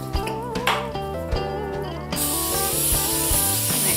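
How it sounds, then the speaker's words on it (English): Cooking spray hisses onto a baking pan in one continuous close burst, starting halfway through after a stretch of background music and continuing loudly to the end. "I'm just going to spray my pan really well."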